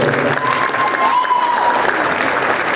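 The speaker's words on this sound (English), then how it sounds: "Can we get a round of applause for Ms. Rachel?" A school pep rally crowd applauds a principal, steady broadband clapping from many people filling the space, with a faint whistle-like tone and some crowd voices mixed in.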